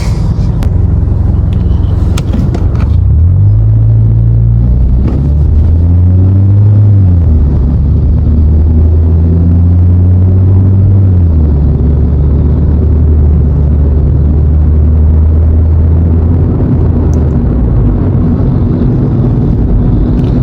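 A 2016 Kia Rio sedan with a modified muffler drives along, its engine droning low and loud throughout, pitch rising and falling through several gear changes as it accelerates and eases off.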